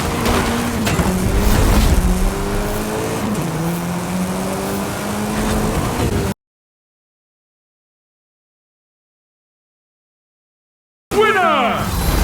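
Hoonigan RS200 Evo rally car engine in a racing video game, loud and steady with rising and falling gear-shift revs, cutting to silence for several seconds before a short burst of high revving returns.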